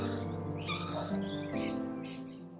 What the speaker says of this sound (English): a baby bird is calling for their mother.